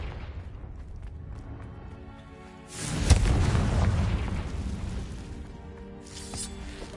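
A Confringo spell explodes in Hogwarts Legacy, a single loud boom that swells midway and rumbles for a couple of seconds before fading against quieter ambient game sound.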